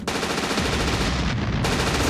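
Sustained machine gun fire in the Blake and Mortimer game Swordfish Versus Delta Red, a dense, loud, continuous rattle of rapid shots with no pause for over two seconds.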